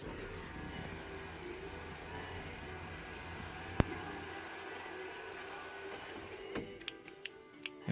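A car sunroof motor runs after a soldered wiring repair, giving a steady low whir with one sharp click midway and a few quick clicks near the end. No one speaks.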